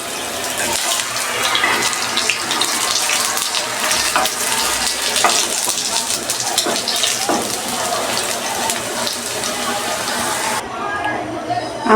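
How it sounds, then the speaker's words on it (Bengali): Potato pieces sizzle and crackle in hot oil in a pan, a loud continuous hiss with occasional stirring clatter and soft spatters, cutting off abruptly near the end. "এখন আমি আলুটা ভাজবো"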